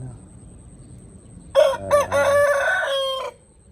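A Tagalog rooster lets out a single loud, close crow lasting about two seconds against quiet farm background.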